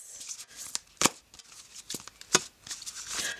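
A deck of star oracle cards is shuffled by hand in quick, uneven bursts of papery riffles and slaps, close and fairly crisp, with several sharper snaps between softer shuffling.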